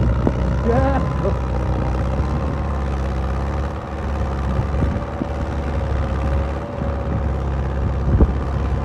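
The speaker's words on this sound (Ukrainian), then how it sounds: "Трактор повзає." A tractor ploughing a field gives a steady, loud low engine drone that runs throughout, with voices nearby.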